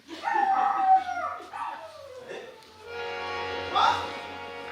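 A dog gives several whining, howling yelps, close and moderately loud, then a longer drawn-out howl follows near the end; voices talk faintly in the background throughout.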